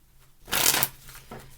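A single quick riffle of tarot cards being shuffled close by, a short crisp burst of flicking card edges followed by a softer tap as the deck settles.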